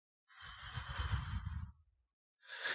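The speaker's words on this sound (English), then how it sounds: "Breathe out." A person breathes out deeply during a breathing exercise, one long, close, airy exhale lasting about a second and a half, followed by a pause and the start of another breath.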